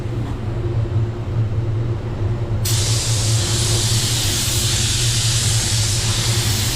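A paint spray gun set to 21 psi at half trigger mists paint in a steady hiss, which turns brighter and fuller partway through, with no talking.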